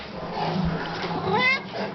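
A cat meows with a drawn-out, rising and falling cry near the end, heard up close over a soft room background, while a person talks quietly nearby.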